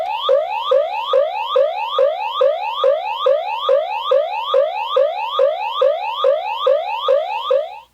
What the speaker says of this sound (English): If you press the third button, you get your third siren sound effect.